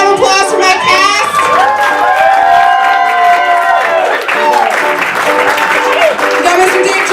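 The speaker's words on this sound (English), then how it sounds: "Please round of applause for my cast" A live comedy show audience applauds the cast with loud, continuous clapping, mixed with cheers, whoops and shouted voices throughout.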